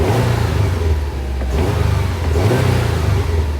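A Subaru WRX fitted with an aftermarket intake system revs repeatedly, its engine note rising and falling loud and close, with an airy intake rush over the rumble and no talking.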